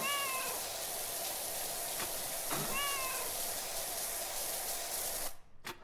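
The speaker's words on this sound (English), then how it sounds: "It's a cat," A cat in a PowerWash Simulator 2 game gives two short meows over a constant hissing spray, and the sound cuts off abruptly near the end.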